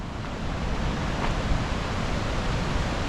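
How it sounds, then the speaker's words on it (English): Continuous broadband rush of a flowing river along the Dosewallips River trail in Olympic National Park, steady and fairly soft with no voices. "Oh, there's the river."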